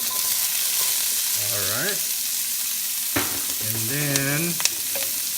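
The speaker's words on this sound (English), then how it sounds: "in a hot pan here, let's add a little bit of oil. Alright, and put our chopped onions." Chopped onions fry in a little hot oil in a hot pan, giving a steady close hiss and sizzle, with a couple of brief whistle-like tones rising over it.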